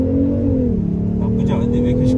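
Steady diesel engine drone from a Jaguar XJ X351 3.0D accelerating in sport mode with synthetic sound generation, a loud continuous hum rising slightly in pitch from inside the cabin.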